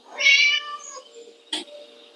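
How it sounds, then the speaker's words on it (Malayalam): A drawn-out cat meow in the video game Scary Teacher, followed a second later by a short, sharp second meow, clear and close with no talking around it. "അയ്യോ പൂച്ച വന്നു പൂച്ച വന്നു"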